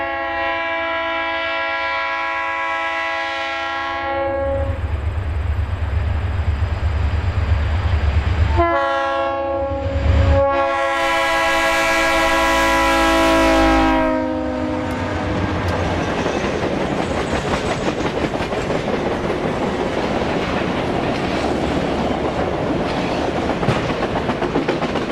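A Norfolk Southern freight train coasts downgrade at milepost 172 near Plattsburgh, Ohio, its horn blaring in loud repeated blasts before the rumble and clickety-clack of passing railcars takes over and continues steadily.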